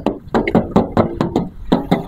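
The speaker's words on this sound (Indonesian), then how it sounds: "Kalau kita ketok seperti ini," Knuckles knocking on the metal body panel of a 1998 Toyota Kijang LGX produce about ten sharp, close, hollow raps in a quick uneven rhythm, with no voices.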